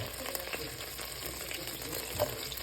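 Butter melting in a pot for Cajun etouffee gives a soft, steady low sizzle and bubbling, faint and continuous, with a small pop near the end.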